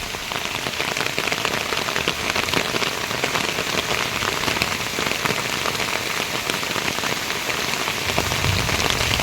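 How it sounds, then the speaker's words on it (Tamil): Steady rain falls in Odisha, India, pattering densely and evenly on surfaces nearby, a constant hiss with no voices. "கொஞ்சம் கம்மியாயிடுச்சு மழை"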